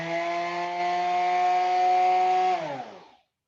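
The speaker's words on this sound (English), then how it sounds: "So that's a typical orbital sander." An orbital palm sander whirs loudly and steadily with a strong motor tone, then winds down and stops near the end.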